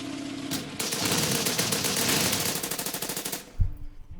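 Rapid gunfire from the Order of Battle: Sandstorm war game as units attack a tank, a loud dense burst of repeated shots lasting several seconds, then a single heavy thump near the end.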